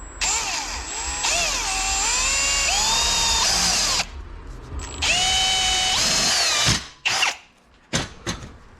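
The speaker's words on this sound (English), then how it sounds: "It's just drilling a hole." A power drill whines loudly in long bursts, its pitch rising and falling as it bores holes for G-body car bumper brackets, then stops and starts again with a few short clunks near the end.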